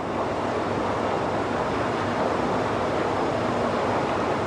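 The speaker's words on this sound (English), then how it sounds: "The torpedo car is already pouring the molten iron into the big ladle." A dense, steady roar of broadband noise as molten iron pours from a torpedo car into a big ladle at a steel mill, continuous and loud throughout with no voices.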